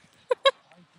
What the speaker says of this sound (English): And then Rella's trying to chase the ducks.